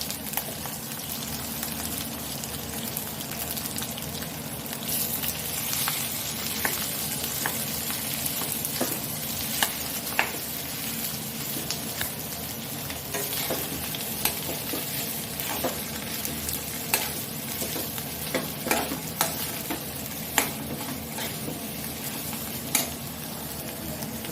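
Potatoes and roasted chilies stir-fried in a pan for a fasting-day batata bhaji, with a steady close sizzle and frying hiss broken by frequent scraping clicks of a spoon stirring, continuous throughout with no talking.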